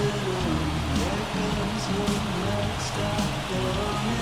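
Rain falling at a baseball ballpark during a rain delay, a steady dense hiss of drops on surfaces with faint murmurs in the background.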